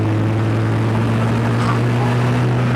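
A Polaris Slingshot's engine roars steadily as it accelerates through a turn, a loud, continuous low drone with wind rush layered over it and no pauses, without speech.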